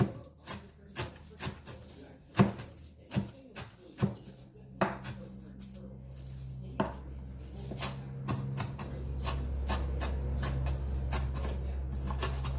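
Onion minced with a knife on a cutting board for tofu martabak wrapped in spring roll skins: steady, evenly spaced close chops that turn into a faster, busier run of cuts, with no voices.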